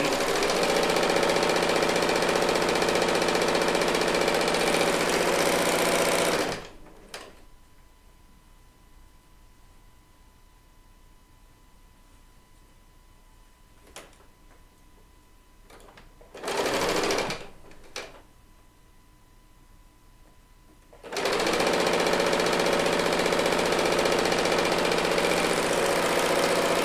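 A serger stitching quilt strips runs in loud continuous bursts, stopping for quiet gaps with faint clicks, then a short burst and a final long run.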